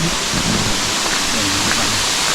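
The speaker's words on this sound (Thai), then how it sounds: "เฮ้ยฝนตกเลยฝนตกด้วยฝนตกนะ" Heavy, loud rain roars continuously in Akatarawa Forest, New Zealand, a dense wash of falling water with no breaks.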